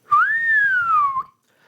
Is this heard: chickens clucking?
no